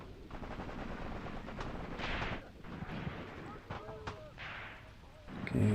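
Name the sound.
machine gun fire in Graviteam Tactics video game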